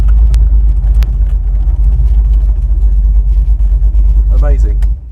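A one-off Ford GT40 with a 302 cu in 400 bhp engine rumbles loud and close in a steady low drone, with a voice speaking over it briefly near the end.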